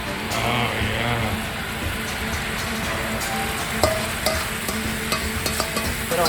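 Sauce poured over char siu pulled pork reducing in a hot pan, a steady close sizzle and bubbling with occasional clinks and stirring scrapes.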